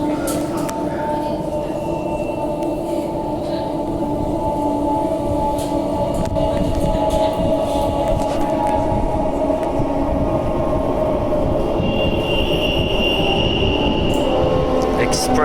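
A steady rumbling express passenger train on Perth's Joondalup Line arrives with a continuous low roar and faint squeals, approaching and staying loud throughout, with no clear voices.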